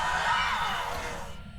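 A shrill banshee-style scream mimicked by a ghost in the horror game Phasmophobia, a sustained wailing shriek that holds steady and fades out toward the end.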